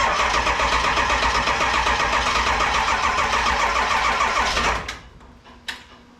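A 7.3 Powerstroke diesel engine cranking slowly in Minnesota cold, a rhythmic laboring starter churn repeating for about five seconds before cutting off, followed by a short clunk in the quiet.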